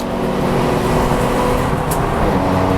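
A Porsche GT3 RS overtakes on a race track, heard from inside another car as a loud, steady roar of engine and road noise that swells slightly as it goes by.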